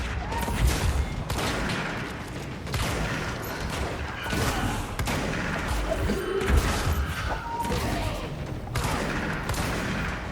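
Heavy gunfire in the video game Control, dense overlapping blasts and impacts forming a loud continuous barrage with periodic stronger bursts, no clear talking.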